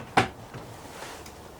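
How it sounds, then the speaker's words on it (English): The small sliding shower door inside a converted Sprinter camper van gives one sharp short clack, followed by a faint rolling rumble in a quiet space. "Sliding door."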